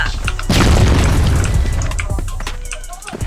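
A grenade detonates in the multiplayer shooter CrossFire: one loud, close boom with a heavy rumbling tail that fades over a few seconds, amid game noise, with a voice talking in Portuguese.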